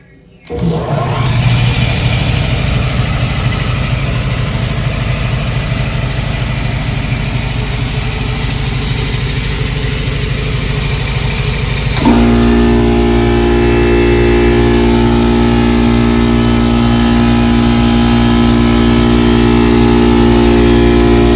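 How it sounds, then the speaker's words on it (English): An Eaton air compressor runs inside an aircraft hangar with a loud, steady mechanical drone that shifts to a deeper, more tonal hum about halfway through and keeps going without pause. "let's take a look at the Eaton air compressor as compared to a normal air compressor in volume."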